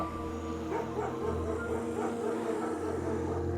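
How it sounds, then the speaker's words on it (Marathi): Dogs bark in the distance, faint and repeated, over a steady low hum. "दूर कुठेतरी कुत्री भुंकू लागली"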